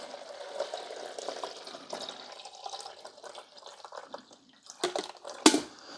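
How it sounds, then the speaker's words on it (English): Vinegar and water are poured into the reservoir of a Black+Decker 12-cup programmable coffee maker, a quiet trickling and splashing with a few soft knocks and a louder clunk near the end. "you're gonna pour the vinegar and water right back here where the water goes"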